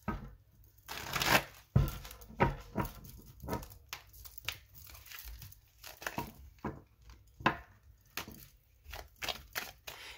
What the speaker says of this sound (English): One more shuffle here, y'all.